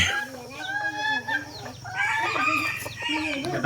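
Hill jungle fowl chickens at a rural hill market cluck and call repeatedly, fairly close and loud, with overlapping bird calls over a steady low background hum.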